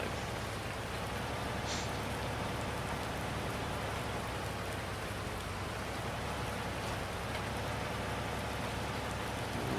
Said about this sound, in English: I really wish it would stop raining and the sun would come out.